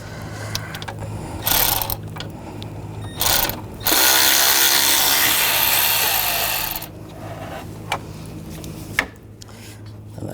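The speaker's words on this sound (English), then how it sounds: "Use a T30 socket. Take that bolt out, and take this bolt out." T30 socket ratcheting out bolts on a 2009-2017 Volkswagen Tiguan engine bay during water pump replacement, with short ratchet clicks and a longer sustained burst of clicking, close up.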